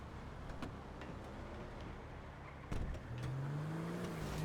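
An armored vehicle in GTA V idles low and steady, then clunks and revs up, its engine pitch rising smoothly toward the end, with no talking.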